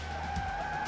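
Tires on a Bentley drifting around a race track in Georgia give a steady, sustained squeal over low engine rumble, heard briefly at moderate distance.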